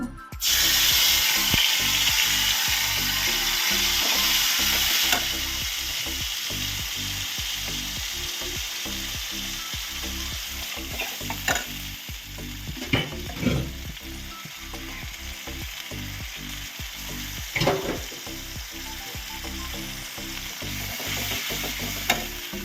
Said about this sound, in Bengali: আর এই যে মশলাটা কষিয়ে নেব